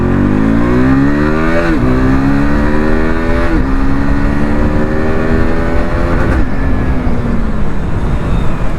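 An RC BS3 model motorcycle engine revs loudly at close range. The pitch climbs in several quick surges, drops back, then rises again, with a rough exhaust rasp throughout.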